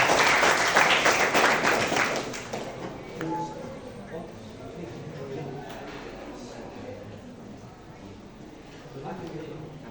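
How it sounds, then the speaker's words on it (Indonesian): Audience applause at a vocational high school teaching event, loud and dense for the first two seconds then fading to scattered claps under a room murmur. "Sekali lagi beri tepuk tangan untuk Pak Dadan"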